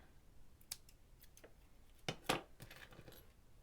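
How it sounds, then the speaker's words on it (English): A few quiet, crisp snips of small scissors cutting off a strand of yarn on a crocheted amigurumi bear, close by and with no talking. "Snip that off."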